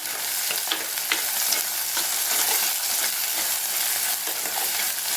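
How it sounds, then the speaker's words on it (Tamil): A prawn curry base with rock salt added sautés in a pan, giving a continuous loud frying sizzle with stirring scrapes and no talk. "நல்லா வதங்கட்டும்."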